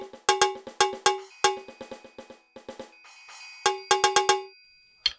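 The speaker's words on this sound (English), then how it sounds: "If I play very hard, I get the cowbell." A Yamaha DTX electronic drum kit plays a cowbell sound: sharp, bright metallic clanks in quick irregular bursts, close and loud, with some softer strikes mixed in.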